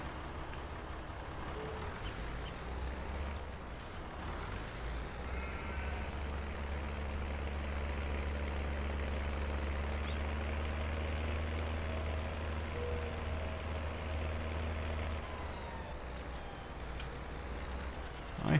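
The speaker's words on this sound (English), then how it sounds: "we will take the little tractor" A small tractor engine runs in the farming game Farming Simulator 19, a steady low drone that holds at an even level for the whole stretch, with nobody talking.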